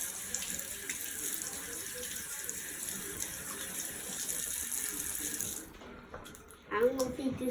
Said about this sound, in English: grab your cup and rinse your mouth out